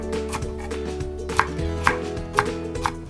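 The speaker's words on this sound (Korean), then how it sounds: "이번에는 청피망을 썰어 주도록 하겠습니다" A knife chops green bell pepper on a cutting board into half-centimetre pieces, giving four or five soft, evenly spaced cuts over steady background music.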